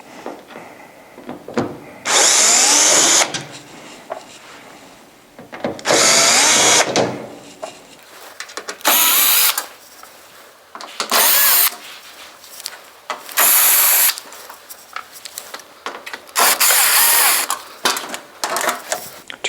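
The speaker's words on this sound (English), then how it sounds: "Just to speed things up, I'm going to use a drill." A cordless drill fitted with a number 2 Phillips bit backs screws out of a Santa Fe Rx cabinet during condensate pump replacement, giving about seven loud whirring bursts separated by quieter handling noises.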